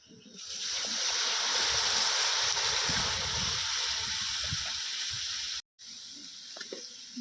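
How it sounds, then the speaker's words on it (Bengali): Water poured into red chili powder masala frying for mutton curry, bursting into a loud sustained hiss and sizzle with bubbling underneath, then cutting off briefly before quieter sizzling resumes. "আর দিয়ে দিচ্ছি লাল লঙ্কার গুঁড়ো মশলাটা যাতে না পুড়ে যায় দিয়ে দিচ্ছি জল"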